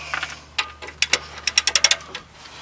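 Hand ratchet working the top bolt on the rear brake of a 2001 Ford Excursion, a few scattered clicks then a quick run of crisp, close pawl clicks in steady rhythm.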